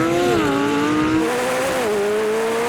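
Supercars — a McLaren 750S, Ferrari 296GTB, Porsche 911 Turbo and Lamborghini Huracán Performante — launch together in a drag race, engines roaring loudly at high revs and shifting pitch through gear changes, with tires hissing along.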